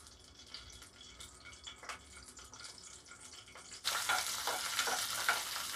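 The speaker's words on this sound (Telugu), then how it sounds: "పచ్చిమిర్చి అనేది 1 పాటు వేగిన తర్వాత" Green chilies frying in oil in a pan, a steady crackling sizzle that swells sharply louder partway through and stays bright and close, with no talking.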